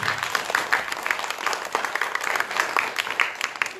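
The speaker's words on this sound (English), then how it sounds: "Shall we give the Lord the best clap offering?" A church congregation gives an applause offering, a dense steady wash of many hands clapping at once, continuous and fairly close, with a little scattered crowd noise underneath.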